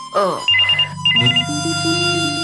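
A telephone rings in short repeated bursts, loud and close, with a steady electronic hum continuing beneath.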